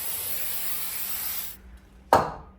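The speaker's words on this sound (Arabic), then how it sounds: "تعالي بس رشي لي شويه سبراي هنا كده" An aerosol spray can gives a steady, close hiss for about a second and a half, then stops, and a single sharp spurt follows.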